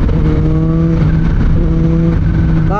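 A 2024 Kawasaki ZH2, a 197 hp motorcycle, pulls hard in fifth gear. The engine note is loud, close and climbing steadily, with a smooth continuous rev and no talking.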